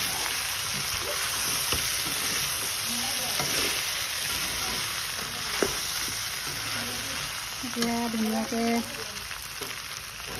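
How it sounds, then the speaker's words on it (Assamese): Duck meat and potatoes sizzle steadily in a hot pan for an Assamese duck curry, a close, continuous frying crackle with occasional stirring scrapes and a brief spoken word near the end. "এয়া আমাৰ মাংস ভাজি লোৱা হৈ গ'ল।"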